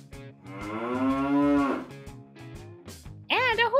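A toy farm set with a tractor and trailer plays an electronic cow moo: one long, loud, close lowing call, then a shorter sound burst near the end.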